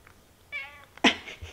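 A house cat gives two short meows, the second louder and sharper, close by in a quiet room.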